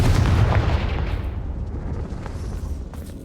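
A Confringo fire-blast spell explodes in the Hogwarts Legacy video game: a loud, booming burst that hits at once, then rumbles and fades over a few seconds, with no voices.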